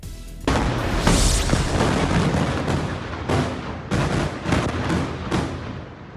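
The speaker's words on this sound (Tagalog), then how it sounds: "Sunod-sunod na pagsabog ang yumanig sa mga taga-Beirut sa Lebanon dahil sa airstrikes ng Israel." Several heavy explosions from Israeli airstrikes on Beirut, Lebanon boom one after another, loud and rumbling with rolling echoes between blasts, and no talking.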